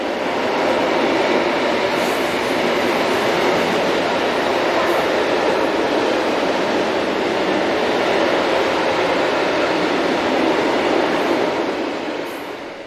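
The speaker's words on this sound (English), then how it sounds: "Here a brace of 185s, numbers 374 and 378, head this train bound for Mannheim." A pair of Class 185 electric locomotives hauling a freight train bound for Mannheim, passing close by in a loud, continuous roar of wheels on rail with rhythmic clattering that eases off at the end.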